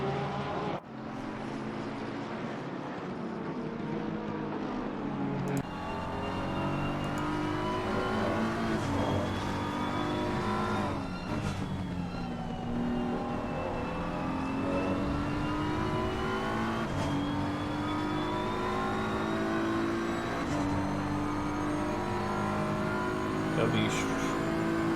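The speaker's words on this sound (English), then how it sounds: "Those two started next to each other on the grid in their Porsches and still racing there." Porsche race cars in an Assetto Corsa Competizione sprint race at Monza, engines revving and shifting continuously through gears, several cars close together, with a commentator talking over the engine noise throughout.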